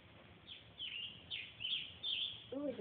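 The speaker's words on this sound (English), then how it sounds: "Bird." Small birds chirp in repeated short bursts near a backyard with chipmunks, bright high calls rising and falling over a quiet outdoor background, with a voice speaking briefly at the end.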